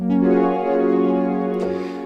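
Layer 1 of a WaveFrame sample with its SFX option plays as a sustained, tonal synth note with a soft attack, holding steady then fading slightly, heard alone.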